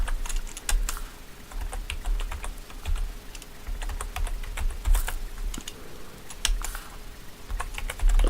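Rapid typing on a computer keyboard while configuring an Asterisk VoIP server, close clicky keystrokes in irregular bursts with brief pauses, alone without talk.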